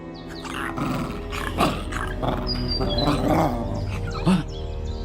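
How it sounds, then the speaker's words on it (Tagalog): A deep, rumbling animal growl with a roaring edge, close and loud, swelling in bursts over a few seconds. "isang malakas na angil ang narinig ko"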